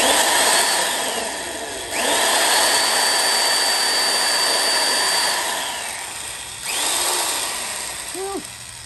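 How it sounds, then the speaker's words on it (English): A vintage Disston Model D25 electric drill whines at high speed, spinning up, holding a steady loud roar, then winding down and revving again near the end. "This is actually a really powerful drill."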